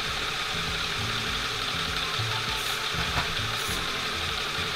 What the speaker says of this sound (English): let me just turn the compressor off